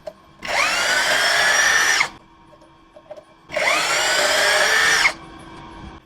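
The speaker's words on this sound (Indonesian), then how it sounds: "Saya pakai mode drilling." A brushless Xenon X-CDID707N cordless impact drill in drilling mode whirs loudly in two steady bursts of about a second and a half each, revving up and cutting off, with quiet between.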